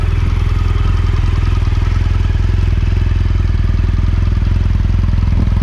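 An adventure motorcycle fitted with Continental tyres runs steadily, a loud, close, continuous low engine drone with a fast even pulse and no pauses.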